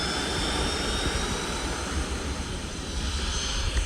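A Freewing F-14 Tomcat RC model jet with 80mm electric ducted fans runs at throttle, a loud continuous whooshing roar with a steady high whine over it, heard close by and without speech.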